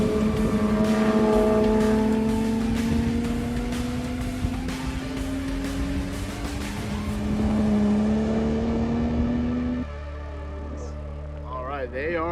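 Race cars near the end of a race day lap pass close by, engines roaring loud and steady with rising and falling pitch. The sound drops into a lower hum near the end.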